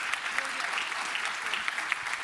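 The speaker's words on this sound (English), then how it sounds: "Huge round of applause." Applause from an audience at a science communication competition final, a dense steady patter of clapping throughout, close and fairly loud.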